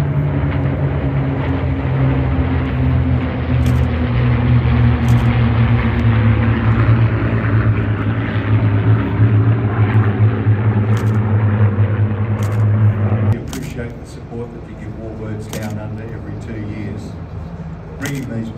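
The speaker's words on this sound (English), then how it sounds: "From the north, you can see our Warbird formation. The 3 P40s, the 2 Mustangs, the Spitfire and the Corsair." A warbird formation of three P-40s, two Mustangs, a Spitfire and a Corsair passes over the Temora air show, a loud sustained propeller-engine drone that fades into distant rumble, under an announcer's amplified commentary.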